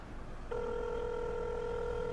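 A telephone sounds a steady electronic tone that starts abruptly after a short quiet pause and holds unbroken to the end, clear and fairly close.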